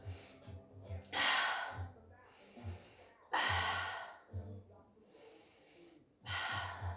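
Deep breathing during a mat Pilates exercise: slow, audible inhales and exhales come in three long breath waves, close and soft, separated by quieter pauses.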